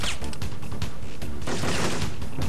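Shotgun blasts and chaotic gunfire fill a firefight in Syphon Filter, dense overlapping shots and impacts in quick succession, loud and close.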